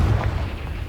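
The Confringo spell from Hogwarts Legacy goes off as a short, heavy explosive boom with a low rumbling tail, loud and close within the game's ongoing sound.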